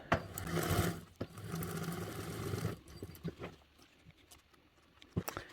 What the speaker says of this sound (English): So I'm going to baste that down with a 1/8 seam allowance